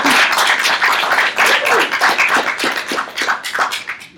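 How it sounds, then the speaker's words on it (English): An audience claps through a celebration event in Kauai, a dense, steady patter of many hands filling the whole stretch at a loud, even level with no talk over it. "So I want you to give yourself a huge round of applause for your career."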